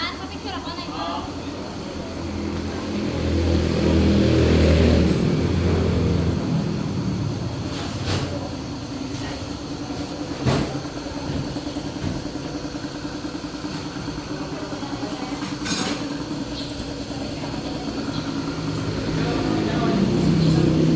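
Small 125 to 175 cc motorcycles in the Philippines idle and rumble at a steady mid pitch, with engines rising and falling over about twenty seconds beneath heavy conversation.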